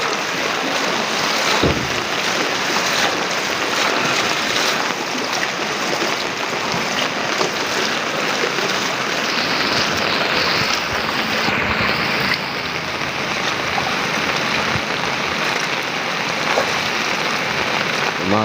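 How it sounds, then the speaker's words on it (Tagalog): Typhoon floodwater flows into a house in La Jolla, Burgos, Rodriguez, a loud, continuous rushing wash of water mixed with heavy rain, steady throughout with no talking. "Pumasok na yung tubig."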